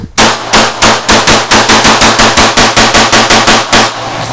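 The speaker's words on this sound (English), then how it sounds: "I'm just going to squeeze off a bunch of rounds here" An M16 rifle fires a fast, steady string of about eighteen loud, close shots at a rapid even pace.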